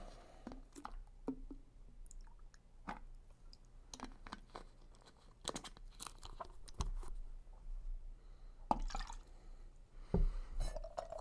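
Vodka and lime juice are poured for a cocktail, with soft liquid trickles, drips and glassy clinks scattered across a quiet, close-up background, no voices present.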